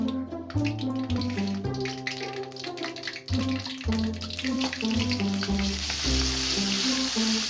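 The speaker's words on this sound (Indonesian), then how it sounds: "bumbu nu tadi dihaluskeun teh nya ditumis heula tina asak" Ground Sundanese spice paste for mie tek tek sizzles steadily as it is sautéed in hot oil, a close continuous hiss partly masked by background music.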